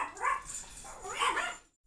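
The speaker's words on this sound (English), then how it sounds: "And my dog's acting crazy." A dog gives two short, loud bursts of barking and yipping indoors, the second about a second after the first, close to the listener and with no one talking.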